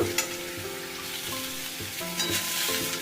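Eggplant fries with onion and garlic in a pan, a constant close sizzle with a few soft stirring scrapes and no voices.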